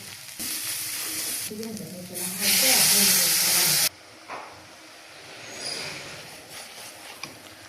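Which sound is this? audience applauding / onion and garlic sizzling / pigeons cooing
onion and garlic sizzling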